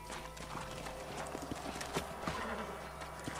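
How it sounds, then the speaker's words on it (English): Horses' hooves clip-clop in a steady, close rhythm in the Red Dead Redemption video game, with a faint snort or whinny and low game ambience beneath. "Let's hold up a minute and find a spot for our horses."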